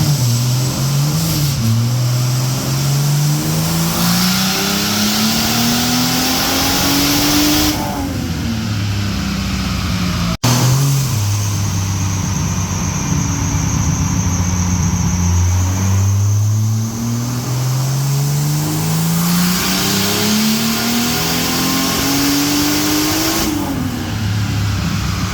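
A turbocharged Atlas 4200 engine in a Trailblazer revs hard and climbs through the gears, pitch rising and dropping at each shift, loud and close for the whole stretch with no talking.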